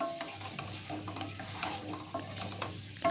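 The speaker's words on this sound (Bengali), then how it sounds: "আলুগুলোকে ভেজে নিচ্ছি" Potatoes fry in mustard oil in a wok, giving a steady moderate sizzle broken by frequent spatula stirs and scrapes against the pan, with no voices.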